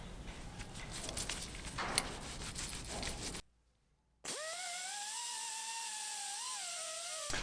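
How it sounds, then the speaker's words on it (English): A 2012 GSXR 1000 motorcycle part is worked with a high-pitched power sanding tool, first a rough scratchy grind, then after a short pause a steady whining tone that shifts slightly in pitch. "I'm gonna sand this thing down because this is gonna be polished."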